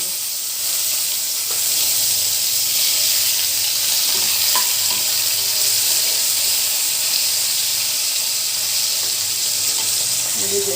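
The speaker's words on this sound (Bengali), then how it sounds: "তেল গরম করতে বসিয়ে দিয়েছি এবার আলুটা আমি ভেজে" Sliced potatoes, coated with salt and turmeric, frying in hot oil in a home kitchen, a steady close hiss and sizzle running the whole time with a few faint clicks and stirring sounds.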